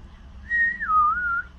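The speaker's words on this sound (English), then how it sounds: "Can you whistle?" A person whistles a single sustained tune, a high held note gliding down to a lower wavering tone, clear and close over a faint low background hum.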